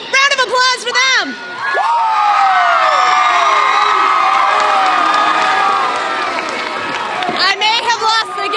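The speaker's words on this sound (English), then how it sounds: "round of applause for them" A loud crowd in the stands at a Steele Canyon Cougars high school football game cheers, whoops and shouts in a sustained roar, with high-pitched yells rising above it throughout.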